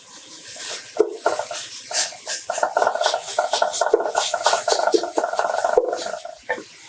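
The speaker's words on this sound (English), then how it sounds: "So I'm gonna break up my hamburger and I'm gonna give it a little bit of salt." Hamburger meat being broken up in a cooking pan for one-pot pasta, giving a steady scraping, rubbing rasp with irregular strokes, close and moderately loud, with no talking.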